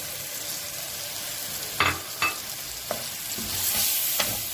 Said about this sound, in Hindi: ये देखिए तकरीबन इसको 2 मिनट हो गए हैं हमें भूनते हुए।